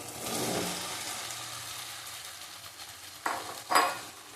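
Potatoes sauté in a hot pan, sizzling and frying steadily while a utensil stirs and scrapes through them, with two sharper clanks of metal near the end.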